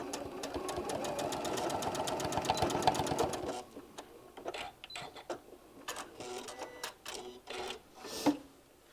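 A sewing machine stitching a large bean bag seam, fast rhythmic needle clatter for about three seconds, then short bursts of stitching during back tacks with pauses between.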